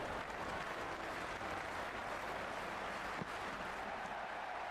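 Steady crowd roar and applause fill a cricket video game stadium before the first ball, a dense continuous wash of noise with no voices over it.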